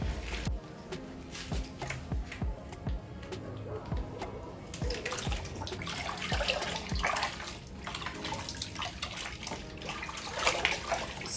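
Water splashes and drips as a wig is rinsed a second time at home, a steady close wash of running, sloshing liquid with no talking.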